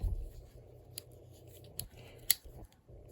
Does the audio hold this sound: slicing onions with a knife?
no